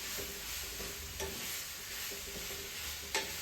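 Raw green mango pieces frying in a pan while being stirred, a steady sizzle broken by several scraping stirs and a sharper clink near the end, fairly close, with no talking.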